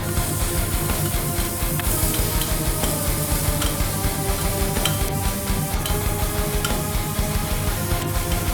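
A New York striploin steak sizzles steadily on a hot salt block, a dense continuous crackle and hiss with faint clicks and scraping from the meat being turned, close and even throughout.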